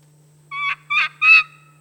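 Three short, high, whistled kee-kee notes from a turkey friction call worked with a pinched striker, rising and clear, close and alone in quiet, with the last note the loudest.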